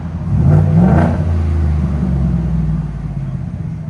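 A 2025 Ford F-150 with its 5.0L V8 and Dynomax Race Bullet exhaust revs up close and loud, climbing in one strong pull, then settling into a steady rumbling hold.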